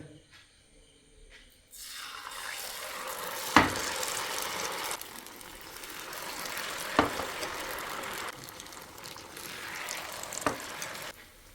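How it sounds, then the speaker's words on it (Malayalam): Egg snacks dipped in batter deep-frying in hot oil, giving a steady soft sizzle and bubbling with a few sharp crackles and pops, close by and without talk. "നന്നായിട്ട് തന്നെ ഡിപ്പ് ചെയ്തതിൻ്റെ ശേഷം ചൂടായ ഓയിലിലേക്ക് ഇട്ട് കൊടുക്കുക"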